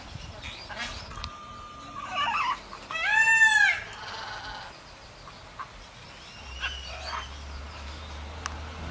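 Parrots in a Colombian tree give scattered harsh squawks and one loud, nasal, bleating call in the middle, some near and some farther off, with quieter rustles and chatter between them and no talking.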